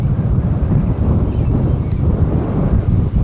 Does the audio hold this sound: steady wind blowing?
yes